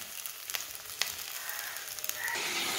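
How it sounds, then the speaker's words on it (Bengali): Papaya and potato pieces fry with ginger, salt and turmeric in hot oil, giving a steady close sizzle with scattered crackles and pops that swell louder toward the end; no one speaks. "আদাটা দিয়ে পেঁপের আলুগুলো দিয়ে দিচ্ছি, দিয়ে নুন আর হলুদ দিয়ে আমি ভাজছি"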